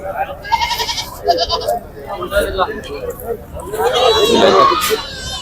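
Goats, some large, bleat repeatedly over a busy, noisy crowd at Pebbair livestock market, with people and children talking nearby; a loud, wavering bleat stands out near the end.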